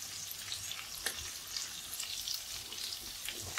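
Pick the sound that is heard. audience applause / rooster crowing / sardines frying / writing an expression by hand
sardines frying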